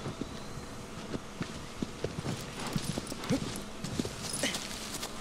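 A horse trots across open ground in Shadow of the Colossus, hooves clip-clopping in a steady rhythm at close range under light wind, with no talking.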